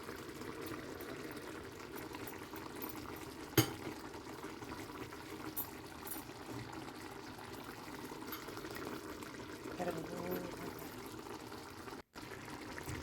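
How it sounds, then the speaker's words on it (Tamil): Prawn curry bubbling in a pot on the stove, a soft continuous simmer with faint bubbling and a single sharp tap partway through, heard alone at low level. "நல்லா கொதித்து வந்துட்டுது"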